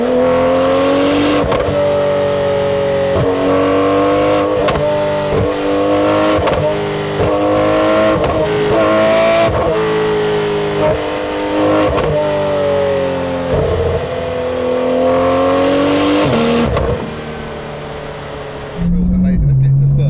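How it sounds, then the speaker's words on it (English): Porsche 911 GT RS accelerating with the turbo kicking in, heard from inside the cabin as a loud engine note climbing through the gears in repeated rising pulls, with occupants talking over it. "Nah, the turbo's kicking in, bro. It's not kicking down."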